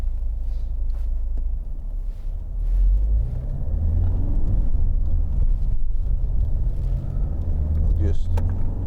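A 2011 Ford Mondeo 2.0 TDCi Zetec diesel drives along the road, its engine and tyre rumble steady and low inside the cabin, with someone talking throughout.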